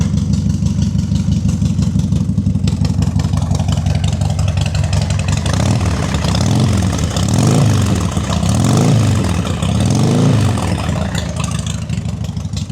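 A 2005 Harley-Davidson Sportster 1200 runs cold on choke, its engine idling with a steady low, lumpy throb and a few swelling revs in the second half, close and loud with no voices.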